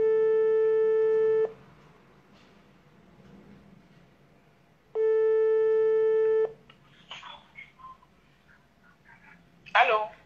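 Telephone ringing tone while placing a call, two long steady buzzing rings several seconds apart, followed by faint voices and rustling.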